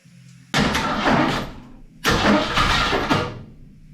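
The old engine of a 1967 Ford Fairlane Ranchero cranks over on the starter in two separate bursts, each a rough, churning rattle lasting over a second, loud and close.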